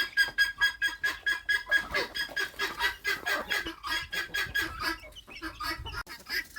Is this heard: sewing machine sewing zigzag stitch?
no